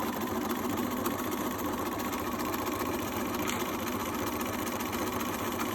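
A sewing machine stitching bag pieces for a beach pouch at a quarter-inch seam runs continuously with a steady, even mechanical whir, close and moderately loud, with no voices.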